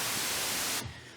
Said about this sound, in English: It's white noise.